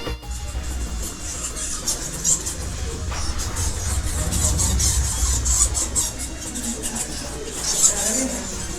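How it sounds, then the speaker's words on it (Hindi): Shrill, squeaky chirps of bats crowd an enclosed room inside a building at Golconda Fort, a dense, continuous high chatter with a low rumble underneath and no talk. "आप इन चमगादड़ों की आवाज़ अभी सुन सकते हैं।"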